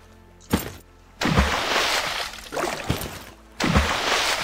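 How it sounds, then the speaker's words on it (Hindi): Water pours into a container in several separate bursts of splashing, gurgling flow with brief pauses between them, close and fairly loud, with no speech. "चलो पानी और भर दें अपन।"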